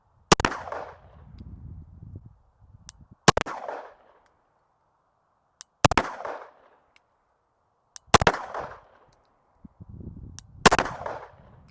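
Five sharp Glock 19 pistol shots ring out at an outdoor range, spaced a couple of seconds apart, each a loud crack with a short rumbling echo and no talking.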